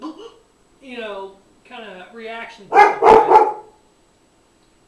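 A dog barks a few times in a quick burst near the end, after a man's speech.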